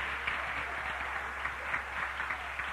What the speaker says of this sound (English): Somebody clap your hands. Give Jesus a great big cheer.